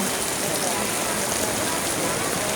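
Heavy rain pours in a dense, steady hiss, drumming evenly on surfaces without letting up.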